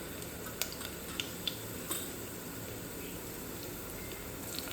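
Cumin seeds sizzling in hot oil with garlic and mustard seeds for Kathiyawadi stuffed karela. A steady, even hiss fills the scene, broken by a few small sharp pops.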